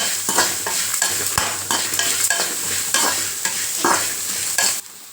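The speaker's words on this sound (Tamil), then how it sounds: "இது நல்லா வதக்குங்க" Onions sizzle steadily in a hot pan while a utensil scrapes and stirs them, the frying noise loud and close before cutting off at the end.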